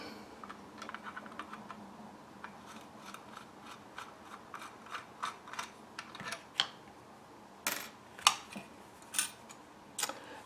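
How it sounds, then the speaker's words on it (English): Type 81 rifle folding stock being unscrewed, a run of small dry ticking and scraping clicks in an irregular rhythm, growing sharper and louder toward the end, close by with no talking. "Now to remove the stock, the folding stock, unscrew this first."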